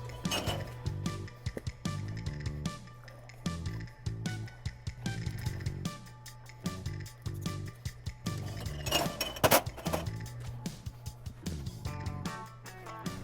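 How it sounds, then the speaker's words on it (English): Glass canning jars clink and knock together as they are filled, with close, bright taps and clatters scattered through a steady background rumble and no talking. "we're gonna go and fill up the rest of the jars"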